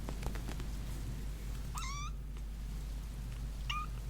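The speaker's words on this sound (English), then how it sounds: "Sorry, my cat here, Puss in Boots," A cat gives two meows, one near the middle and a shorter, fainter one near the end, over a steady low hum in a quiet room, with a few soft taps early on.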